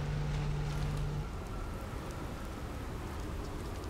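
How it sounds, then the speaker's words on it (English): Rain in the video game Outer Wilds falls as a dense, steady hiss of drops that stays even and close throughout, with no other sound standing out. "Never get bored of the rain."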